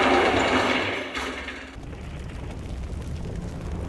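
A German MG-42 machine gun in a video game rips out a dense, rapid burst that cuts off after about a second and a half, leaving a rumbling tail.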